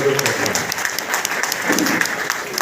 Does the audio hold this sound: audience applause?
yes